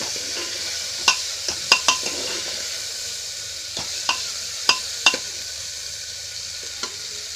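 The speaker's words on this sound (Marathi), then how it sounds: "आपण फोडणी सगळी अशी शिवून घ्यायची परतून चांगली चमच्याने हलवून" A spoon stirs a sizzling tempering of coconut and tomato in oil for Maharashtrian dal. A steady close hiss runs throughout, punctuated by about ten sharp spoon clinks and scrapes against the pan.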